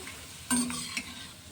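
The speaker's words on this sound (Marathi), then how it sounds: "आता हे पापड मी तळून घेते।" A rice flour papad drops into hot oil in a wok and bursts into a loud, close sizzle that eases off into quieter bubbling, with a brief flare near the end.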